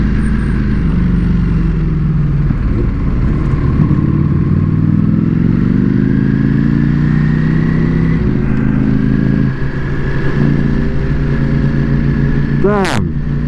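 A BMW S1000RR sport bike rides through heavy rain, its engine note droning steadily and shifting pitch as it accelerates, with a brief high whine near the end and a rider talking over the ride.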